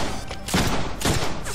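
Enemy gunfire in a Deadpool video game: two sharp bursts of shots crack close and loud in quick succession, separated by a short gap, with no talk over them.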